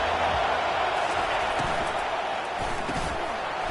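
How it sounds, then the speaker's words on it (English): Stadium crowd at a football video game, a dense continuous roar of cheering fans heard at a distance, steady and loud from start to finish. "listen to the crowd energy here in the early going"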